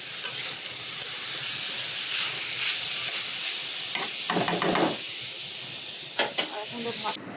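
Vegetable bhaji fries in a pan with a steady close hiss and sizzle throughout, broken by a few short stirring scrapes and clatters near the middle and end.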